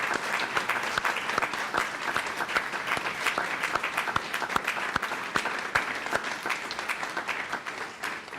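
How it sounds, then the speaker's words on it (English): An audience at a board of education meeting gives sustained, dense applause for award winners, a steady wash of many hands clapping at moderate volume from start to finish. "give one very rousing applause to all of these A+ award winners"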